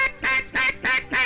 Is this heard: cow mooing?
no